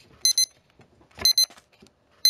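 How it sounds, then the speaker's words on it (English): Kitchen-style timer alarm going off during gameplay, sounding three bursts of rapid high-pitched double beeps spaced about a second apart, loud and close with near silence between. "Sorry, I didn't reset my timer. Apologies. You're gonna hear a lot of beeping in this video."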